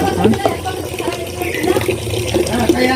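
Water runs steadily from a tap at a rural family home, a continuous splashing rush filling the whole stretch, with a voice speaking faintly underneath.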